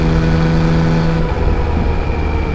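A Yamaha XSR900 25th Anniversary three-cylinder engine hums steadily at cruising speed in top gear, loud and close, with a smooth droning note that dips slightly midway.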